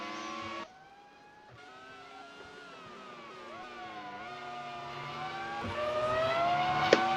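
Formula One race cars in the Grand Prix 4 game at the 2003 Hungarian round, engines whining loudly and steadily with rising and falling pitch as cars shift gears and accelerate, no talk.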